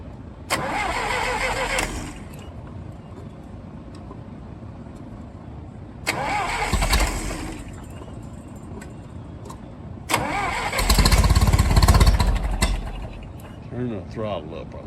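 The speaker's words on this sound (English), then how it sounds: "we're gonna have to start it up here, get it warm" Massey Ferguson tractor engine cranked after a head gasket replacement, three start attempts with the last one catching and running rough and loud before settling to an idle, with people talking nearby.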